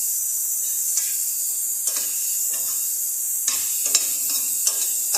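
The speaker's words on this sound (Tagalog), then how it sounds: "maingay yung po yan, yung pressure cooker" A pressure cooker cooking squash with seafood gives a steady high hiss, broken by irregular faint ticks and bursts of bubbling, close by and without speech.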